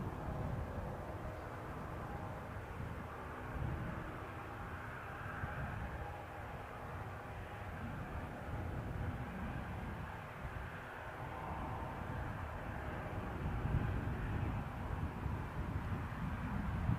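A fixed-wing airplane takes off at Newcastle airport, a steady low engine roar heard from a distance that swells slightly toward the end, with wind buffeting the microphone and no talking.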